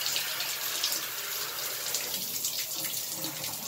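Water from a small shower head sprays steadily over a computer keyboard in a bathtub, a continuous hissing splash at moderate level with no talking.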